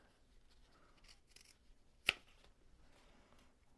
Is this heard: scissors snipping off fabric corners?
yes